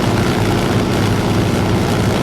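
A Mitsubishi A6M5 Zero fighter's radial piston engine and propeller drone steadily and loudly up close, a dense, unbroken roar with no pauses and no talk.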